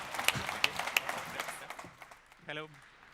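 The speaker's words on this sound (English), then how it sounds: "Have a big applause to him." Conference audience at a marketing and growth hacking event applauding a moderator, moderate scattered clapping that fades out, followed by a brief spoken voice near the end.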